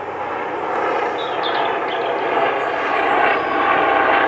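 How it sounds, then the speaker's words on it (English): Police helicopter flying overhead above a forest, a loud, steady broadband rotor and engine roar that swells slightly over a few seconds, with no talking. "I'm being buzzed by the police helicopter"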